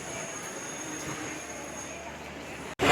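A train at Mumbai CST station gives off a steady rumble with a thin high whine of wheels, fairly loud and continuous, then cuts off abruptly before a sudden louder burst of noise.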